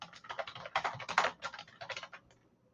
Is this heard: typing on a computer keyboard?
yes